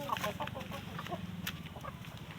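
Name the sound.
desi chickens clucking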